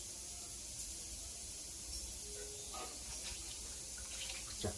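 Water is poured steadily over a Ganesh idol while bathing it during a home puja, a soft continuous splashing trickle with faint irregular drips and no talking.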